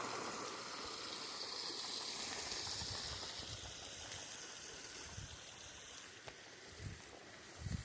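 Water streams steadily from the outlet of a 7.5 HP solar pump with a soft continuous hiss and gurgle, flow slightly reduced, with a few faint knocks toward the end.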